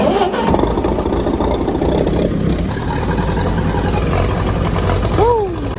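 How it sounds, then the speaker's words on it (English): An old, dusty tractor engine is started and left running, a loud, steady low rumble that carries throughout. A voice speaks over it, and a brief rising and falling whistle comes near the end. "Let's get this old tractor out of here."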